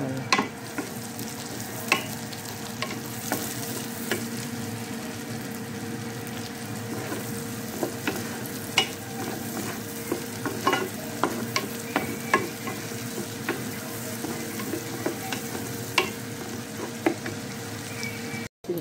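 Plenty of onion sautés in melted butter in a pan for a shrimp dish, a steady close sizzle broken by frequent stirring clicks and scrapes of the utensil, with no talking.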